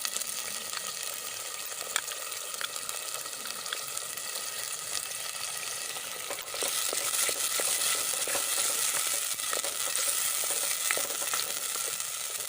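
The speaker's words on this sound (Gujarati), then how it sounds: "તો આપણી ટમેટાની ગ્રેવી થોડી સંતળાઈ જાય એટલે તેમાં મગદરીની ગ્રેવી ઉમેરી દઈશું" Tomato gravy for a cashew curry sautés in a pan with a steady, even sizzle and scattered small crackles, growing louder partway through, heard close up with no talking.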